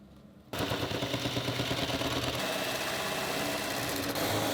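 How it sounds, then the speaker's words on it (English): A drill starts abruptly and runs steadily, boring cup hinge holes into wood with a jig and hinge drill bit, a loud, rough grinding whir for several seconds. "I bought this jig and drill bits that are designed for drilling the holes for these cup hinges"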